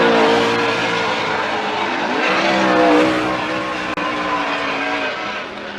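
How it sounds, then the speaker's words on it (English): A Ford Mustang drift car at Formula Drift Atlanta roars loudly with rising and falling engine revs and tire squeal, close and continuous without voices. "Just over driving his Ford Mustang is JTP"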